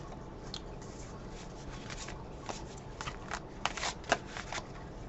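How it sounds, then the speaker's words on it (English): Soft riffling and snapping of oracle cards being shuffled by hand, quiet and close, in irregular bursts with no talking. "I'm just going to shuffle for a moment and see what deck I need to go to"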